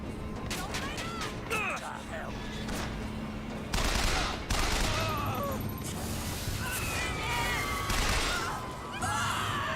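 Chaotic gunfire in Bioshock Infinite, dense crackling volleys and bursts over a busy battle din, with people talking over the fight throughout.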